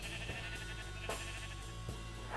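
A Minecraft sheep bleats with a garbled, stuttering glitchy texture, the sound repeating in short choppy pulses at moderate volume with no voices.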